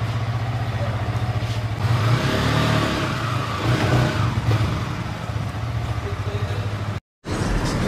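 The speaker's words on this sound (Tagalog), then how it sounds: "Sound check, R15M." Yamaha R15M motorcycle engine revving during a sound check, loud and close, with repeated rises in pitch over a steady idle and a brief cutout near the end.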